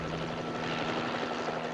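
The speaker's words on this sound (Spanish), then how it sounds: "Tenemos que revisar el helicóptero." A helicopter flies steadily overhead, its rotor beating in a continuous, loud drone with a low throb throughout.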